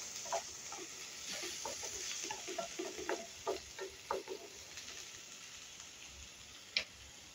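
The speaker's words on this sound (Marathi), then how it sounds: "कांदा इथे जाळायचा नाही, फक्त सॉफ्ट करायचा तेलावर." Onions soften in oil in a pan, making a low, gentle sizzle with a scatter of soft ticks and stirring scrapes, then quieting near the end, with one sharp clink close by.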